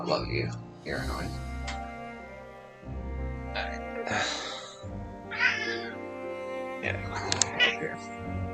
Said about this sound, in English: Cat, you're annoying.